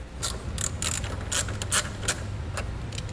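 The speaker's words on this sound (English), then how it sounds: "You want to remove the nut with an 8mm socket." Ratchet wrench with an 8mm socket loosening the nut on a battery post of a 2012 Ford Escape, a rapid series of sharp clicking ratchet strokes in irregular bursts, close up, with no talk.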